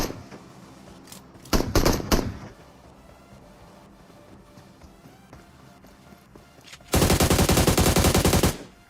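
Gunfire in the mobile battle royale game BGMI: a brief burst of shots, then quieter footsteps and movement, and finally a long loud automatic stream near the end.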